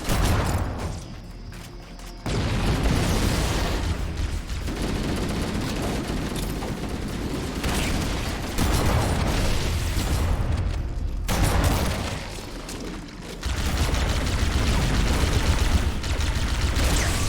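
Explosions and heavy gunfire in Halo CE come as dense, loud bursts of booming blasts, rapid fire and crackling impacts, continuous over several seconds with brief lulls.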